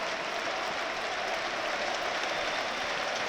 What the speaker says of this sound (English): Gets a little ripple off the crowd and his song comes out as well.